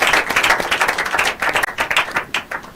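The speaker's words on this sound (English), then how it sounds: "Could you please give a round of applause for our young lady?" An audience at an inter-collegiate quiz and debate competition gives a short, loud round of applause, close and energetic claps from a modest crowd.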